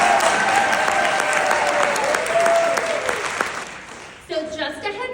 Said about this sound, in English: help me give up a round of applause to the students who are helping us tonight